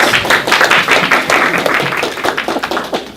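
Audience applause breaking out at a meeting break: dense, steady clapping from a room of people, fairly loud and continuous, with a few voices faintly mixed in.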